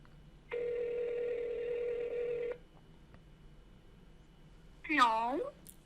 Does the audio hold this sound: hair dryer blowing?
no